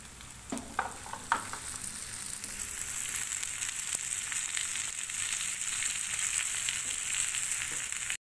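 Sliced cabbage and chili sizzle steadily in a hot pan for instant fried noodles, a bright constant frying hiss with a few early clinks and stirring scrapes near the start.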